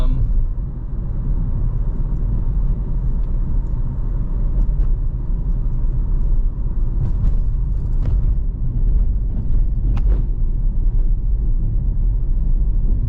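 Riding inside a car driving through Hua Hin, Thailand: a steady low road and engine rumble fills the cabin, with faint scattered clicks and no talk.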